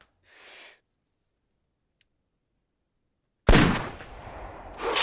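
A hunting rifle fires a single loud, sharp shot in theHunter Classic, cracking suddenly after near silence and trailing into a rumbling echo, with a second burst rising at the very end.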